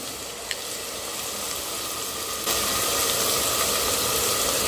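Garlic and coconut frying in a pan with onion and tomato, a dense, continuous sizzling hiss that grows louder partway through, as if fresh ingredients have just dropped into hot oil.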